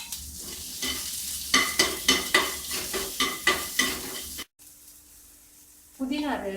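Onion, garlic, ginger and green chilies sizzle in a little oil while a spoon stirs them in a steady series of close, rhythmic scrapes. The sizzling pauses briefly, then resumes.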